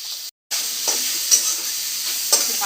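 Potatoes sizzle steadily in a frying pan, with a brief silent gap near the start, then soft stirring scrapes and a couple of light utensil clicks over the continuous hiss.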